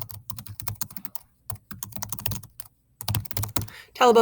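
Rapid clicking of computer keys as a question is typed, coming in bursts with short pauses, close and fairly loud, ending with a brief different sound.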